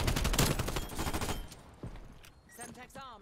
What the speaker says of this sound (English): This is the AK74U in Black Ops Cold War.